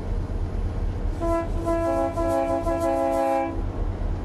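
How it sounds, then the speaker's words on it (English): Loud sustained train horn blast lasting a couple of seconds over a constant low rumble of the locomotive, heard close from aboard. "You want to blow the horn?"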